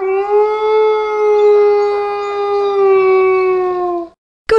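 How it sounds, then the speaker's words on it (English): A dingo howl from the Blinky Bill's Ghost Cave PC game, one long, loud, steady tonal howl held for about four seconds before cutting off, with no voices. "Is exactly the sound a dingo makes."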